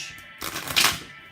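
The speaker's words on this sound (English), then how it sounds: "One more shuffle, Sag," Tarot cards are shuffled close by in one short riffling burst that builds and then fades. The sound is soft, with no talking over it.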